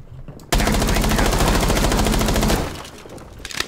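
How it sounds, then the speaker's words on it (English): Sustained automatic gunfire in Rainbow Six Siege on the Skyscraper map, a loud continuous burst of rapid shots lasting about two seconds, then fading into quieter game noise and a few scattered sounds. "Did you shoot that? Yeah, I shot him."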